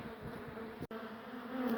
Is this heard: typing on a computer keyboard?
no